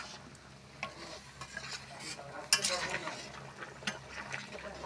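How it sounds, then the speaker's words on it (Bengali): A big wok of vegetable curry with potato, papaya and lentil fritters is stirred over a clay stove. Steady scraping stir strokes and clinks sit over a soft, continuous sizzle, with one sharper scrape near the middle. "তার জন্য এই বড় কড়াইয়ে রান্না করছি তরকারি।"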